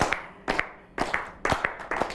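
A studio audience claps to welcome a singer onto a holiday television show, with several uneven bursts of hand claps rising and fading over a couple of seconds, fairly close and sparse rather than a full roar.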